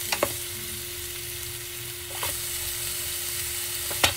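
Butter sizzles and spits in a hot pan, a steady close frying hiss with a few sharp crackles and taps near the start, middle and end.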